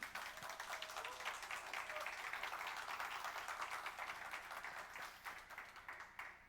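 Audience applause for a pianist at a church mission benefit concert with a cellist, continuous even clapping from a room full of people, fairly distant and quiet, tapering off in the last second.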